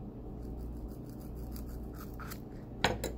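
Scissors cutting cardboard for a homemade guinea pig toy, heard close and fairly quiet: a faint rasp of the blades, then a sharp, louder snip near the end.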